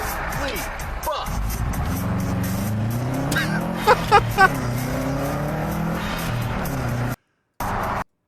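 A car speeding along a racetrack, engine revving and shifting with tire squeal, heard over a loud excited voice talking throughout.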